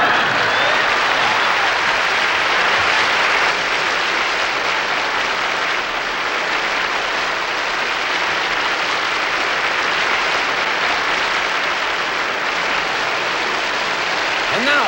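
Audience applause at a celebrity roast of Suzanne Somers at the MGM Grand fills the room, with dense, steady clapping that holds loud and unbroken from start to finish.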